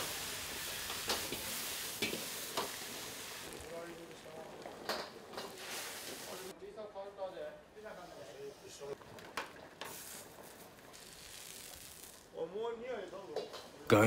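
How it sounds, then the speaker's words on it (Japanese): Ingredients for a giant spicy miso ramen are tossed and stirred in a sizzling pan at a Niigata ramen shop, with clattering metal bursts and hissing frying under voices talking. "すさまじい鍋さばきじゃ。"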